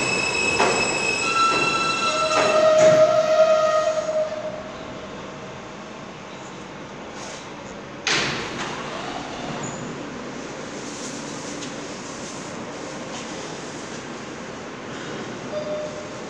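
R160 subway train pulling into Church Avenue station on the F/G line toward Coney Island, loud wheel squeal and rumble that eases off, with a brief clank partway through.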